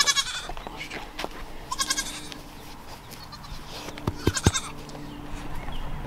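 Goats on a small farm bleat in several short, wavering bursts, close and fairly loud, separated by quieter gaps with faint shuffling and knocks in between.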